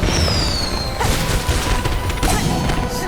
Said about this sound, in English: Hitting as many of these exploding grenades back as possible.